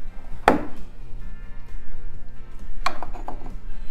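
A metal bolt pin pulled free from a wooden portable milking stanchion, giving a sharp close clack followed a couple of seconds later by a cluster of lighter knocks and rattles over low background hum.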